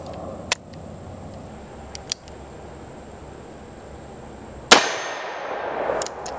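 A Taurus Judge revolver fires Winchester PDX-1 .410 Defender shells, one loud sharp report near the end, preceded by a few small metallic clicks and a high steady ringing tone, with no speech.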